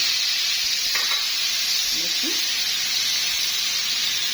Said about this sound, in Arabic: هنحط معلقه زيت زيتون اي زيت عندكم، وهننزل بالمشروم